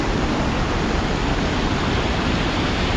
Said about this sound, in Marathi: पाईप मधून पाणी न जाता सगळं पाणी वरून जात आहे